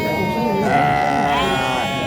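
Sheep and lambs bleat at an outdoor livestock market in Xaçmaz, several animals calling continuously and fairly loud, with market chatter mixed in underneath.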